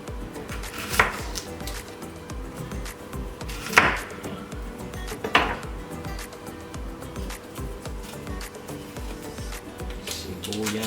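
A knife chops onion and garlic on a board in a home kitchen, giving three distinct, sharp cuts spaced a second or two apart over a low, murmuring background.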